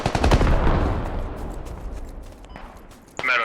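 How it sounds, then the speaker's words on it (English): Gunfire in a tactical shooter video game, a loud rapid burst of shots at the start that fades into a reverberant tail, then a further sharp shot near the end. "I'm shooting long range over where SL went down"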